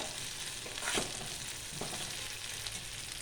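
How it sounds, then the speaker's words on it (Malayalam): Curry leaves frying with chicken in a pan crackle and hiss in a dense, steady sizzle, with a few louder bursts as the mix is stirred, heard up close without any talk. "ഇനി അടുത്തതായി കുറച്ച് കറിവേപ്പില ഇടുക. അത് നന്നായിട്ടൊന്ന് ഇളക്കി കൊടുക്കുക."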